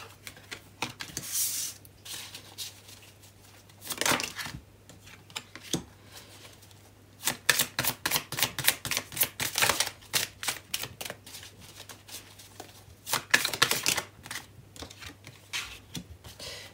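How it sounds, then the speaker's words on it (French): Tarot cards drawn and laid out one after another: crisp flicks, snaps and shuffling slaps in irregular bursts, some rapid runs, close and moderately quiet with a faint steady hum beneath and no speech. "Je tire toutes les cartes et puis on verra après."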